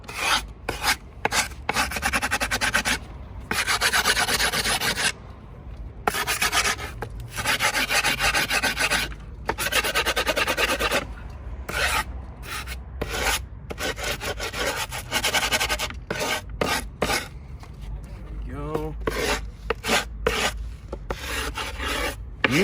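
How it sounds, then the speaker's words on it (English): A file rasps back and forth along the edges of skateboard grip tape, a long run of rhythmic scraping strokes separated by short pauses, close and loud with no voices. "You like to file it down really properly."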